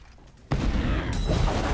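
An explosion in League of Legends hits with a sudden loud boom that cuts off quieter game sounds, then gives way to a dense rumbling burst that carries on to the end.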